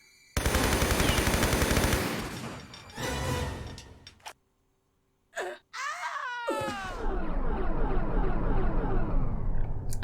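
Rapid bursts of MP5 submachine gun fire in Tomb Raider III Gold: The Lost Artifact, loud sustained rattling volleys broken by a short silent gap, then more firing mixed with game effects and a pained moan.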